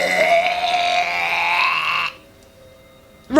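A storytelling voice imitates a deep, dark burp for Mr. Stink, drawn out and loud for about two seconds before cutting off abruptly into quiet.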